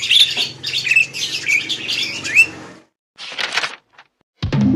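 A Thai starling sings loud, varied chirps and whistled phrases at close range for nearly three seconds, followed by shorter bursts after brief pauses.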